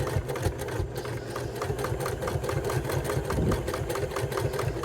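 A sewing machine stitches through a quilt with a fresh, sharp needle, running in a steady, fast rhythmic chatter of needle strokes that holds at an even, fairly loud level for the whole stretch.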